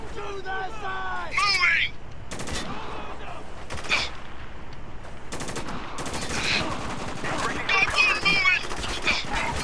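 Bursts of rapid automatic gunfire crackle loudly in the war shooter Spec Ops: The Line, several volleys spread across the stretch, mixed with in-game shouting and chatter.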